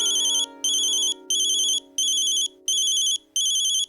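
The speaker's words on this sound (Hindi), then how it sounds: "अरे बाबा, दीदी का फोन आया है।" A phone ringtone sounds for an incoming call, bright repeating electronic bursts in an even rhythm, six pulses with short gaps, loud and clear with no voices.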